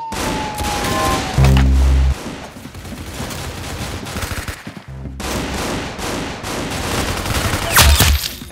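Gunfire from shooting in a game, bursts of rapid shots and heavy booming blasts in quick succession, loud and close, broken by brief lulls.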